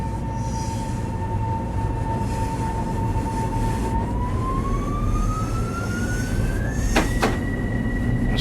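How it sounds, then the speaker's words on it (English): An MTA M7A electric commuter train on the snowy Harlem Line in Train Sim World 5 runs with a loud, steady rumble and a motor whine that climbs in pitch as it speeds up, with two sharp clicks near the end. "This train is quite loud"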